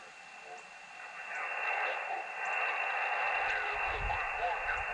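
Steady hiss and static from a radio receiver on a Chameleon F-Loop antenna with faint shifting tones, swelling louder as the antenna is tuned, with a low rumble toward the end.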